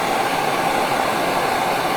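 A small torch flame burning alcohol off a wooden Christmas tree wine stopper gives a steady, close, broadband roaring hiss that holds constant throughout, with no voices.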